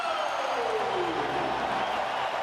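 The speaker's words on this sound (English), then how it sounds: "The Oilers fans just deafening here with applause and excitement after that goal." Edmonton Oilers fans at a hockey game roaring and applauding after a goal against the Los Angeles Kings, a dense, steady wall of crowd noise from start to finish, with a falling tone sweeping through it.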